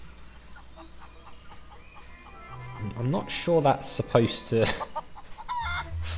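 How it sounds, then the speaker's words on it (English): Feral chickens in The Curse of Monkey Island cluck in a burst of choppy calls midway through, with someone talking over the game audio. "Why are there two feral chickens?"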